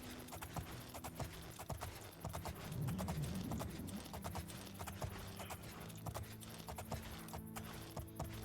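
Horse hooves clip-clop steadily in the video game The Elder Scrolls IV: Oblivion, a quiet regular rhythm of hoofbeats running through the whole stretch over a low background music bed.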